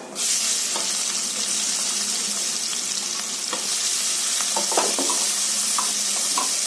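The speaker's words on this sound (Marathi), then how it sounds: "कांदा छान परतून घ्यायचं" Chopped onion sautéing in hot oil with cumin and asafoetida for a red amaranth bhaji, a steady close sizzle throughout with occasional stirring scrapes and crackles.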